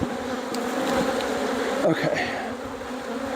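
Honey bees swarm around an open hive under repair after a wax moth invasion, making a dense, continuous buzzing drone close up, with a brief spoken word partway through.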